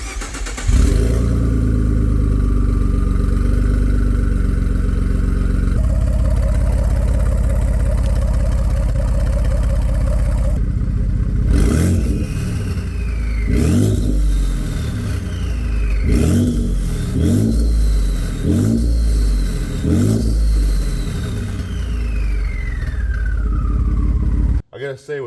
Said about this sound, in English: Now I'm honestly curious how this is gonna sound with a diverted exhaust.